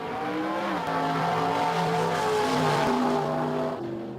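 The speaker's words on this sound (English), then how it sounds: "the smells, the sounds of these muscle cars." Muscle cars drive past and rev their engines, giving a loud, continuous throaty roar whose pitch climbs and falls as they pass. No one speaks over the engine noise.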